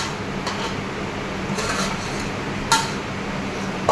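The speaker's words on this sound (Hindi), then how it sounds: "चारों तरफ से चम्मच से मैं मसाले को पोंछते हुए डाल दूँगी ताकि मसाला पतीले में ना रह जाए।" A spoon scrapes roasted chicken biryani masala from the sides of a metal cooking pot, giving soft intermittent scuffs and a couple of sharper clinks over a low steady background, close and fairly quiet with no talking.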